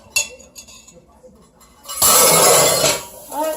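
Meatloaf ingredients with ketchup and lime juice are mixed in a bowl, giving a loud, close stretch of clinking and scraping against the bowl after a few lighter knocks, then a short sloppy burst at the end.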